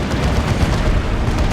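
A Bane Wolf's chem cannon fires in Dawn of War 2, a loud, dense roaring burst of battle noise sustained throughout with rumbling low booms.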